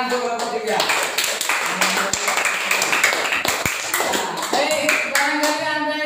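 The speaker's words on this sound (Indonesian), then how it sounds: "Tepuk tangan untuk kelompok 3" Classroom applause for a student group after their presentation in an Islamic religious education lesson, scattered clapping and taps mixed with ongoing chatter and voices throughout.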